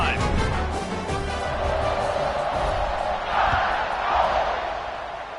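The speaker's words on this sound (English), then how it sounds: "this crowd is feeling themselves after that last drive" Stadium crowd noise from a Madden football video game on PS5, a dense, sustained roar of cheering that swells and dips, with music or game sounds underneath and no voices standing out.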